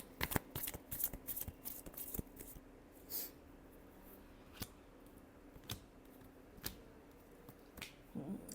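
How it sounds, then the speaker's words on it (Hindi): A deck of tarot cards being shuffled up close: a quick burst of riffling card flicks at the start, then sparser single snaps and taps spread through a quiet room, with no talking. "Last shuffle."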